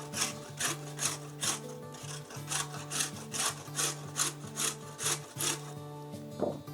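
Half a carrot is shaved against a kitchen grater in steady rhythmic strokes, each a close, rasping scrape repeating about twice a second with no talking.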